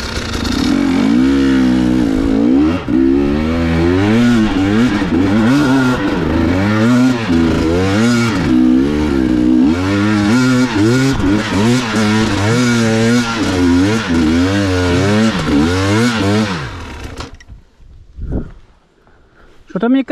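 A Sherco SE 300 trial motorcycle climbs a hill with a loud, close, wavering engine note that rises and falls as the throttle is worked, and people talk over it before it cuts out near the end.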